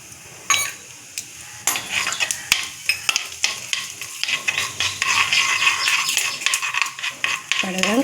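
Mustard seeds and cumin crackling in hot oil in a pan for ginger chutney, with sharp irregular pops, spoon scraping against the pan and clinks of utensils, close and lively.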